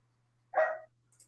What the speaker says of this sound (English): And I hear a dog barking.